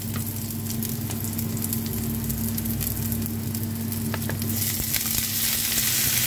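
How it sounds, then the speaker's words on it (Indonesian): Crushed garlic and ginger sautéing in hot oil in a pan give a steady, close sizzle, with brief clicks of stirring and a louder crackle toward the end, with no voices. "tumis bawang putih yang udah kita geprek tadi sama jahenya ya"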